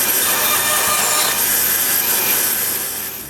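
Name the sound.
domino joiner cutting 8 mm mortises in wood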